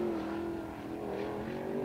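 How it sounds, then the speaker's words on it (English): A sprint car engine at Attica Raceway drones steadily at a distance, lacking power as it labors around the dirt oval, a sustained mid-pitched hum with slight rises and dips. "you can hear the engine not performing the way Robinault was certainly hoping"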